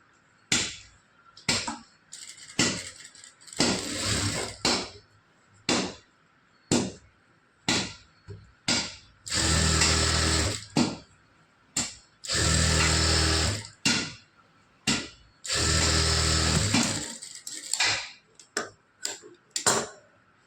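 Sewing machine stitching the lining of a blouse, short whirring bursts alternating with longer steady runs of stitching and quiet pauses between, close and clear with no talking.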